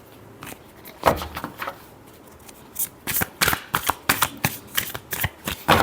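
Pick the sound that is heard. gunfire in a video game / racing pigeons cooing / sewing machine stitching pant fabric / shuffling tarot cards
shuffling tarot cards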